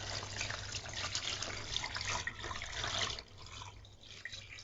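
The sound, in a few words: leg pieces of chicken dipped into water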